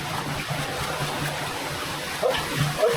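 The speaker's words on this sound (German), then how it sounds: "Schau mal, frisches klares Wasser." Fresh, clear water flows steadily inside an abandoned railway tunnel on the old Battice–Verviers line as a soft, continuous trickling rush, with a faint voice nearby.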